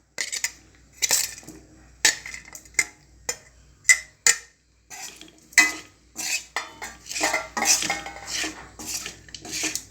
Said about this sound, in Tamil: இப்போ நான் ஏற்கனவே நம்ம வதக்கி வச்சுருந்த பழுப்பு பாவக்காயை ஆட் பண்ணிக்கலாம்